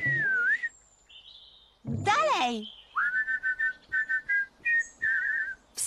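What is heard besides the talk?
whistling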